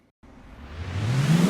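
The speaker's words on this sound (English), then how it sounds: "And then just a classic riser sound." A classic synth riser in beat production swells out of silence into a rising noise sweep that climbs steadily in pitch and grows louder for over a second.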